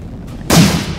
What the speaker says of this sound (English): Explosive dash, explosive wall bangs.